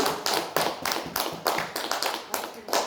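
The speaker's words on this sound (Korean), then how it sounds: "우리 하나님께 모든 영광에 박수를 돌리겠습니다." Applause fills a church service as the congregation claps, a series of uneven bursts of many hands, fairly close and sustained throughout.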